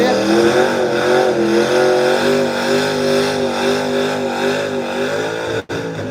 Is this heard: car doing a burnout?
yes